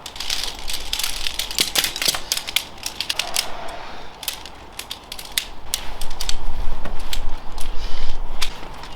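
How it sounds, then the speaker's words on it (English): Aluminium poles of a freestanding four-limbed backpacking tent click and clatter as sections are fitted together, with sharp repeated snaps over a rustling background. "Now we'll get the poles on."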